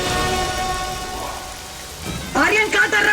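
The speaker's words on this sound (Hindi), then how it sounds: "ये बरसात रोक दो।" Heavy rain pours down in a dense, loud, continuous hiss, and a raised voice or swelling music cuts in over the downpour near the end.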